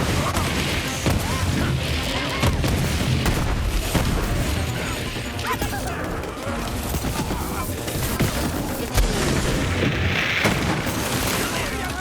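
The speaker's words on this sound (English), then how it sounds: "Let's try and hit him with a grenade maybe." Grenade blasts and booming bursts from the video game Borderlands 3, a dense, continuous barrage of explosions and gunfire packed with game action, with some talk mixed in.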